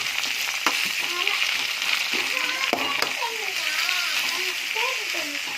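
Onions sautéing in hot oil for a Tamil chicken curry, with a loud continuous sizzle and occasional stirring scrapes, while a person talks over it.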